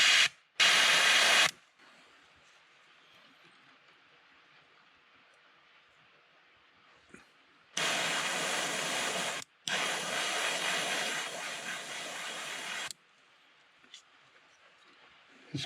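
Sharp hissing bursts of an airbrush spraying paint onto fishing lures, one short blast then two longer sustained sprays, with a faint background hum between them.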